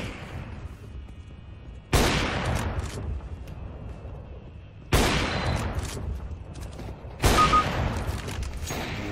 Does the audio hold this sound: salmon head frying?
no